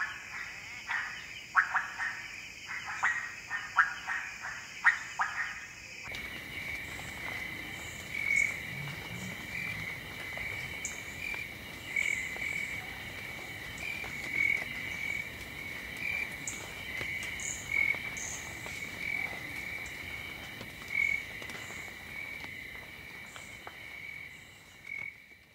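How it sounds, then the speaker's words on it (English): Night soundscape in Ethiopia with frogs and insects: a pulsing cluster of frog calls early on gives way to steady, high insect trilling and scattered chirps, faint and spacious, with soft low croaks in the background. "The night soundscape is excellent, as expected, with plenty of frogs, insects, birds, soft rain and fog drip"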